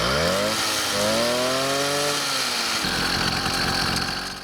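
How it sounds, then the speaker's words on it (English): A cheap two-stroke motorized bicycle engine kit runs loud and close, its buzzy whine rising and falling with the throttle across several revs before dropping to a rattling idle. "These are 2-stroke kits and they sound like this."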